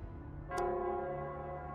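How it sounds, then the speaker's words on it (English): A town bell in the Wuthering Waves video game rings with a sustained, resonant tone that starts about halfway through and hangs on steadily, with a faint ticking strike at the onset and again at the end. "It's the Nelsquare's bell."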